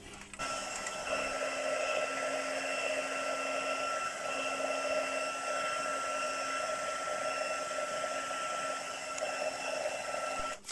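Hair dryer blowing steadily to dry glue on a craft tube made from a toilet roll, a continuous close whirring hum with a high whine that runs unbroken for about ten seconds before cutting off.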